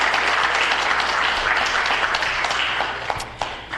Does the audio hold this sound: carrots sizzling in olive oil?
no